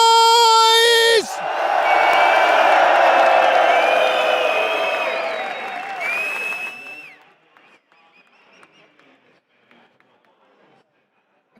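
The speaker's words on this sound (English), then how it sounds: "as you can hear the crowd very much on the NAV side" A large esports arena crowd at PGL Cluj-Napoca 2026 roars and whoops for a Counter-Strike quarterfinal, loud sustained cheering that swells after a shouted announcement and then fades away toward silence.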